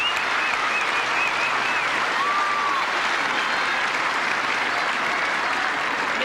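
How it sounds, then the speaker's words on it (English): Sustained, steady applause from a large tennis crowd at the 1981 Australian Open women's final, continuous and evenly loud throughout, with faint crowd whistles mixed in. "Wow, listen to that crowd."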